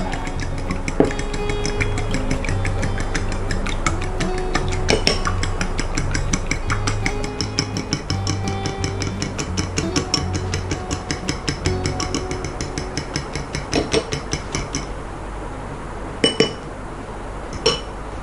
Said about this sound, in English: that one you're going to whisk it for 4 minutes before you add it to the paste